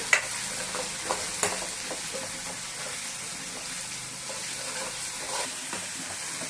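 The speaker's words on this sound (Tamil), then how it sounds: "நல்லா தக்காளி வெங்காயம் நல்லா வதங்கிச்சு" Tomato and onion sauté in a pan for brinjal dry fish curry, a continuous close sizzle with occasional spatula scrapes and light clinks.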